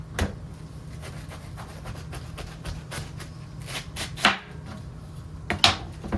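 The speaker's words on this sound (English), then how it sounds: "I'm just gonna get this chopped up" Food is chopped on a board in a home kitchen for meal prep, a steady run of sharp, close knife taps with a few louder strikes, heard alone with no talking.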